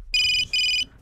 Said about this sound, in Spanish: Y se va a escuchar el ruido de un teléfono de repente